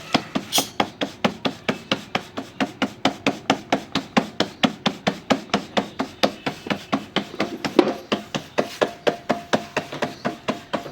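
Bhakri dough being patted flat by hand, a steady rhythm of soft slaps repeating about four times a second, close and even, with no talking.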